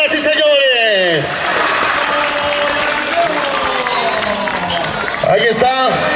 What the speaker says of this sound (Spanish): Venga, fuerte el aplauso, señoras y señores.